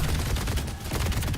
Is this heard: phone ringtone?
no